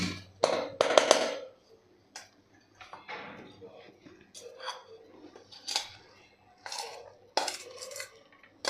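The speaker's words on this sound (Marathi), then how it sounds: "आता आपल्याला एका ताटामध्ये काढून घ्यायची आहे" A spoon scrapes and knocks against a pot while cooked dal for a Ganpati festival dish is moved onto a plate, giving irregular close metallic clinks and scrapes with someone talking over them.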